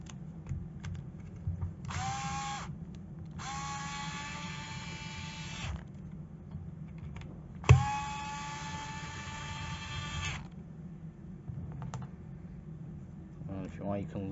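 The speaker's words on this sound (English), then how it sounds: "we'll start at the bottom here and remove the two front screws" A power driver unscrews screws from the bumper of an Arrma Outcast 6S RC car, three whirring bursts of varying length, close and fairly loud, over a steady background hum with a sharp clunk in between.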